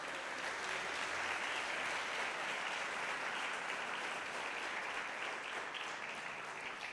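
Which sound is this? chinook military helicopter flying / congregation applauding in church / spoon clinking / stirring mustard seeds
congregation applauding in church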